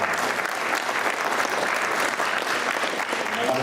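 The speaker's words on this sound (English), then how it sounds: "So let's give another round of applause to" An audience at a community unity dinner gives a full, steady round of applause, dense and close, for a few seconds.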